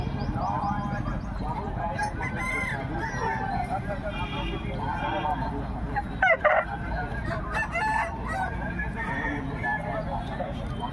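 Fighting-breed rooster at a village market crowing in a few bursts amid market chatter, with other fowl clucking nearby and people talking throughout.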